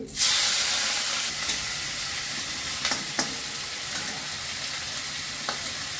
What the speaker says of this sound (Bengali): তেজপাতা দিচ্ছি, পাঁচফোড়ন, চিংড়ি মাছ দিয়ে দিচ্ছি